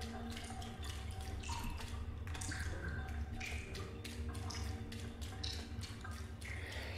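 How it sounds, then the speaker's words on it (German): Water drips in a dark hospital setting in the video game Little Nightmares 2, with irregular soft taps spread through the whole stretch over a steady low ambient hum. "da tropft irgendwas"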